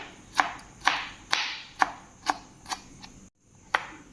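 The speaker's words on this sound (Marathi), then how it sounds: "जेव्हा आपण टोमॅटो असं बारीक चिरतो" Tomatoes being finely chopped with a knife on a board, sharp close taps in an irregular rhythm of about eight strokes with a brief pause near the end.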